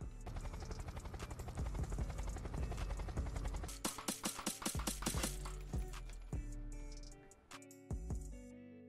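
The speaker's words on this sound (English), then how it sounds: "Yeah, take the heli." Helicopter in the game Unturned during a skybase raid, its steady rotor drone filling the scene alongside sharp bursts of gunfire and clinking impacts, with the engine sound dropping out briefly near the end.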